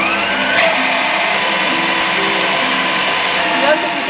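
An electric mixer whirs steadily at close range as carrot cake batter with orange zest is beaten, a continuous motor drone lasting throughout, with voices talking over it.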